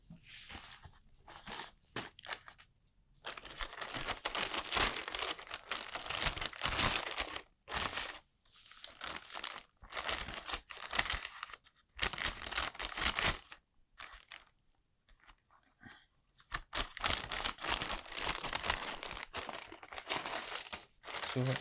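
Cardboard box and plastic packaging of a TP-Link TD-W8961N wireless ADSL2 modem router being opened by hand, with close crinkling, tearing and crunching in bursts broken by short pauses.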